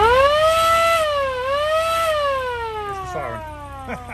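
Siren fitted to a replica WW2 jeep wails loudly up and down in smooth rising and falling sweeps, then winds down in pitch as it fades, heard up close.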